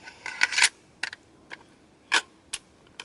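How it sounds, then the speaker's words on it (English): A .22 conversion charging handle and conversion bolt are slid into an AR-15 rifle, making a series of sharp metallic clicks and sliding scrapes. A cluster of clicks comes first, then isolated clicks are spaced apart, close and alone with no talk. "Put in the conversion charging handle and the conversion bolt."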